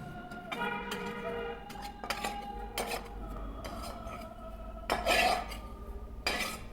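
Roasted rice is scraped out of a pan, with several scattered metallic clinks and scrapes of a spoon against the pan over a quiet background.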